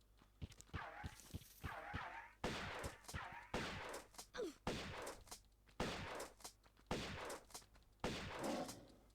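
Shotgun blasts in Tomb Raider, about a dozen sharp booming shots at roughly even intervals, each with a short decaying tail, fairly near and with no talk.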